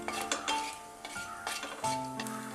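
Cashews frying in ghee for a jaggery payasam, a quiet sizzle under repeated clinks and scrapes of a metal spoon stirring in the pan, close and with no voices.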